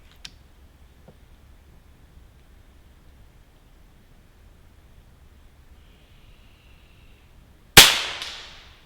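FX Impact M3 airgun firing a 40-grain slug at about 1,040 feet per second, a single sharp loud crack near the end after a long quiet stretch, with a brief decaying tail.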